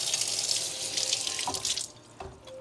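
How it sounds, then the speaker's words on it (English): A spoon being rinsed under a running kitchen tap while cooking spaghetti and meatballs: a steady close rush of water for about two seconds, then the flow stops and a couple of faint clinks and drips follow. "I'm going to take my spoon here and wash it because no reason to dirty up another spoon"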